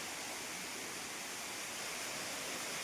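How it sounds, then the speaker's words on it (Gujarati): A steady, even rush of a waterfall tumbling between hills, a continuous broadband hiss with no voices or other sounds over it. "અહીં ધોધ પડે, ખડખડિયું હે."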